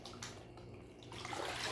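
A jumpsuit lifted partway out of a dye bath, giving close sloshing and trickling water that grows louder toward the end of a brief moment.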